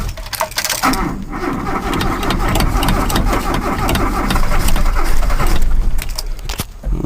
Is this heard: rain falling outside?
no